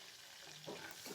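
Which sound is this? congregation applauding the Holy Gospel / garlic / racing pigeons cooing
garlic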